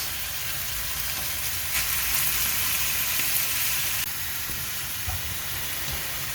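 Peppers for menemen fry in a pan with a continuous, close, hissing sizzle that holds steady throughout, briefly growing a little brighter and louder midway.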